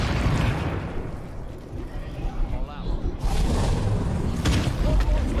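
An explosion in the video game State of Decay 2 lands as a heavy boom and rumble that rolls on, with bursts of crackling debris, while people talk over it.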